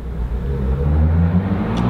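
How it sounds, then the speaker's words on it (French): A motorcycle engine revs while warming up nearby, a steady loud low rumble with rising throttle swells that runs throughout without pause. "C'est quoi ces gars qui se sentent obligés d'écouter en faisant chauffer leur moto quoi?"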